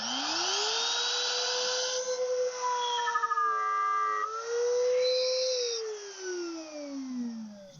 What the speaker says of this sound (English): I bought a brand new router bit for this. It's a 2-flute design, which is a lot better at clearing out the chips.